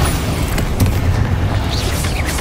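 A Confringo blasting curse explodes in the Hogwarts Legacy video game, a loud, dense, rumbling boom that fills the whole clip without letting up.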